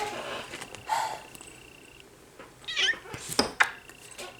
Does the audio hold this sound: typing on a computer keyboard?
no